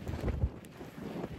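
Wind gusts across Tenby North beach in Wales on a rainy day, a low, rumbling buffet against the microphone for about a second and a half, fairly quiet and with no voices.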